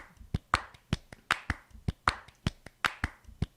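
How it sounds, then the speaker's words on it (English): Sharp hand claps sound in a steady, evenly spaced rhythm, about two or three per second, close and fairly faint, with nothing else over them. "These claps might be the actual ones."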